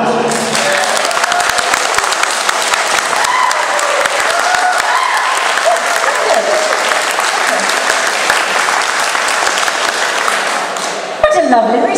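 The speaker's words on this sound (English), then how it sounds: "like a huge round of applause from Spoke Gillian Brown herself" A large audience bursts into loud, sustained applause and cheering for actress Nicola Bryant, filling the whole stretch before fading at the end.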